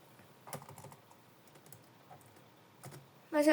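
Someone types a computer name on a keyboard that does not work well, with scattered soft key taps at close range in a quiet room, ending in a louder burst of clatter.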